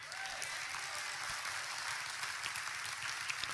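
Audience applause at a church talk about Israel, a dense, steady wash of clapping from a large crowd that carries on evenly throughout.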